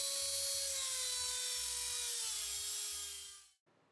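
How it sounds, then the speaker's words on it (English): A Dremel with a cutoff wheel notches a 1/4-inch brass rod in a high, whining grind that slowly drops in pitch under load, close and steady, then cuts off abruptly near the end. "cut a notch with a Dremel and a cutoff wheel"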